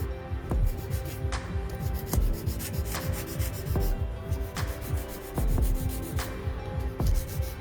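A nail file rubbing over artificial nail tips during a manicure, brisk close scratchy strokes in an uneven back-and-forth rhythm, with faint clicks and no talking.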